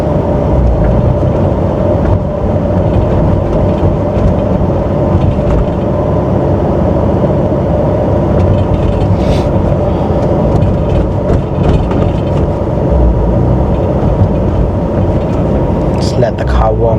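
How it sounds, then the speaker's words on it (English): A Nissan GTR idles steadily while warming up, a loud continuous low engine drone from close by with a few faint clicks and rustles over it and no clear talking. "Let the car warm up nicely"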